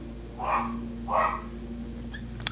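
A puppy barks twice in the background, two short muffled yaps about half a second apart over a steady electrical hum, followed by a faint click.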